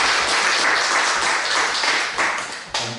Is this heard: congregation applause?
yes